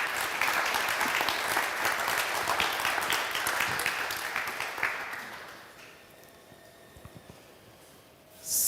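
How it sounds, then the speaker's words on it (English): Audience applause after a talk at the CLARA Symposium, a full burst of clapping that fades after about five seconds into a few scattered claps and quiet room noise. "Let's give him a round of applause."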